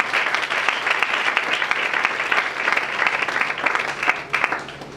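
A church congregation claps steadily in dense, continuous applause for about five seconds, at moderate loudness and without letting up.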